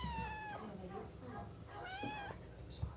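A cat at an animal shelter meows twice in clear, drawn-out rising cries, close and fairly quiet, with faint background noise between the calls.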